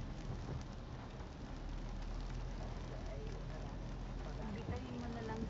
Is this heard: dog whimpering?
no